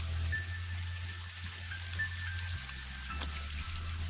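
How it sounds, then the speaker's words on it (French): Rain summoned in the video game Scribblenauts Unlimited, a steady synthetic patter of falling drops over a low electronic hum and game music, with no talking. "On n'a qu'à invoquer la pluie au-dessus"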